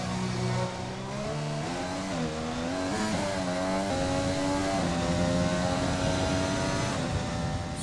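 A race car engine in a racing video game revs steadily and loudly, its pitch rising and falling through gear changes, with a brief tire squeal and no talking.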